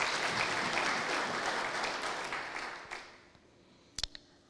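A church congregation applauding, a broad wash of clapping that gradually thins and fades out, followed by a couple of brief knocks as the room quiets.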